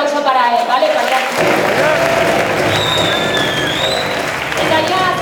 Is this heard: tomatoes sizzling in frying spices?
no